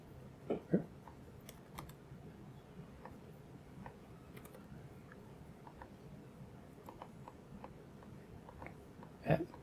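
Sparse, faint taps on a computer keyboard sound close in a quiet room, irregular single clicks with a couple of slightly louder keystrokes near the start and end.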